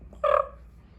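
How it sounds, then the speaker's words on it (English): A cat's single short, bright chirp-like call rings out, close and clear, then fades into quiet. "he just chirps. He hardly ever meows."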